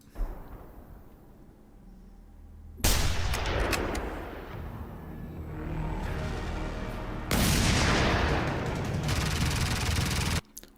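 Rapid automatic gunfire in the shooter Generation Zero breaks out in two long, loud sustained bursts, separated by quieter stretches of ambient game sound.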